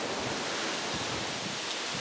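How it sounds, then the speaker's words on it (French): Wind gusting through an outdoor vegetable garden with fruit trees, a loud steady broadband rush with low buffeting on the microphone, no talking. "Il y a du vent, il y a du vent."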